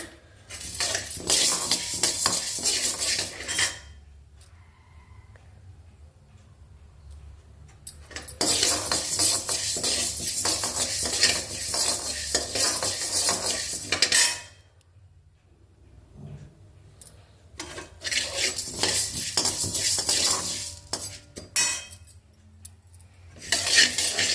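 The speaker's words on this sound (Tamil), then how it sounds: "லைட்டாக செவந்ததுக்கப்புறம் காஞ்ச மிளகா போட்டுக்கலாங்க" Curry leaves and dried chillies being stirred and roasted in a pan, a spoon scraping and clinking against the metal in three long stretches separated by quiet pauses.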